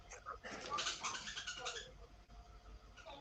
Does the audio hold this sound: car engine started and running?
no